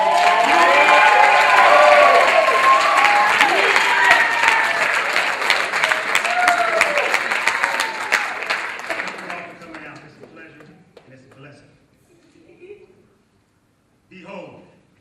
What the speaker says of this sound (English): a warm round of applause for Mr.